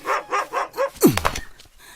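A German Shepherd barks close and loud, four quick rhythmic barks ending in a sharper yelping cry, then a faint trailing tail.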